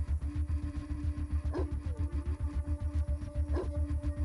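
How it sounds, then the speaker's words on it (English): A dog barks while attacking in the video game Atom RPG, two short sharp barks standing out over a loud, steady rhythmic combat and music bed. "The dog's going to finish this guy off"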